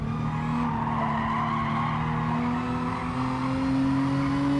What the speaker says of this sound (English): The car was bogging. It was hesitating because of how high the gear was.